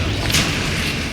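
A Confringo blasting spell explodes in the Hogwarts Legacy game, a single short, loud, roaring burst with a deep rumble that fades within about a second.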